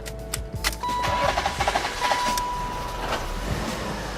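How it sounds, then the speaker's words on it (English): BMW 5 Series engine cranking and starting after a fuel filter replacement, with a whirring starter and sputtering turnover settling into a steady idle, close and fairly loud. "Now let's start it up."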